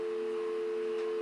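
Trixbox office phone tones: a steady single tone holds for about a second, then a short, louder dialing beep cuts in at the end, heard clearly with no talk.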